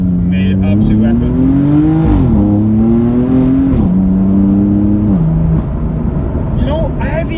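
Loud, close engine note from a 500 bhp stage 1 BMW M4 under acceleration, climbing in pitch through several gear changes with brief dips between pulls, then easing off near the end.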